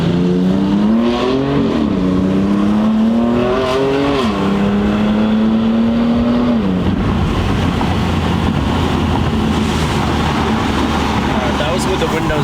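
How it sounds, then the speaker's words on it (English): A 2018 BMW M3 Competition revs hard and loud from inside the cabin, its exhaust note climbing in stepped pulls over several seconds before dropping into a steady, rumbling drone. "let's see if you guys can hear this exhaust."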